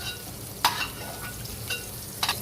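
Small capsicum pieces frying in ghee in a kadai give a soft steady sizzle, broken by a few sharp scraping stirs near the start and toward the end.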